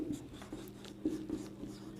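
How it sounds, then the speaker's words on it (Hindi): A marker or chalk scratches across a board in short, faint strokes during a physics lesson, with a low room hum underneath. "लिख दूं मैं आपको"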